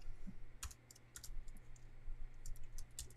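Light typing on a computer keyboard, a handful of soft, scattered key clicks at close range over a quiet room hum.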